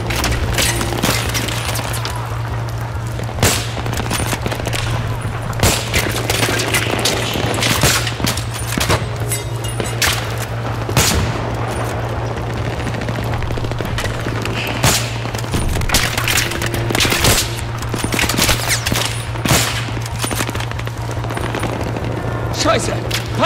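Gunfire in the video game Battlefield 3 during a night urban fight, with dense repeated shots and bursts over a steady low hum, and a voice talking over it throughout.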